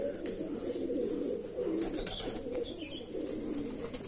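Many Andhra, Madrasi and Dasu pigeons coo in a steady, overlapping low murmur, with soft throaty calls layered together nearby over a faint background hiss.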